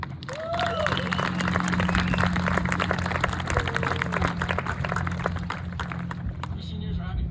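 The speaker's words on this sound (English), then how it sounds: "let's give a round of applause" Applause and cheering for teachers and staff fill a 2024 graduation ceremony hall: dense, steady clapping from a large audience that tapers slightly toward the end, with a low hum beneath and some voices mixed in.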